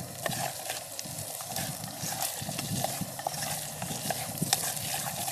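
Potatoes stirred in a pan over an outdoor camp stove on a bicycle tour, giving a steady soft scraping and sizzling texture with scattered clicks from the utensil, close and continuous throughout.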